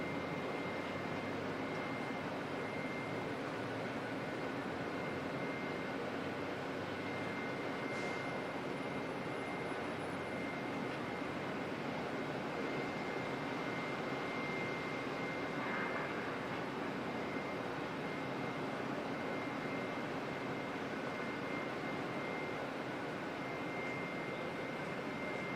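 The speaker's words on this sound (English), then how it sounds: "So inbound ATR from Kerikeri." An ATR turboprop arrives inbound from Kerikeri at Auckland Airport, its steady, fairly faint engine drone sustained throughout with a constant tonal hum and no talk.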